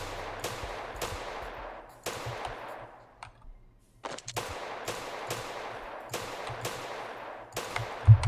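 Gunshots from a top-down zombie shooter video game, Field Survivor: a run of sharp, loud shots in quick irregular bursts, with brief pauses between groups, set over a low steady in-game background hum.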